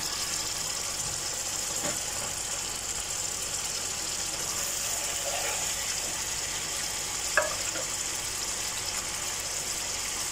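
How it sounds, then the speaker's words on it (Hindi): Onions and dry spices frying in a pan for chicken kofta curry, a soft continuous sizzle with occasional faint stirring clicks, steady and fairly quiet. "प्याज अच्छे तरीके से फ्राई हो चुका है।"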